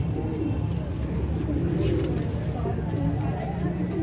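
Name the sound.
pigeons at Lahore Data Darbar pigeon market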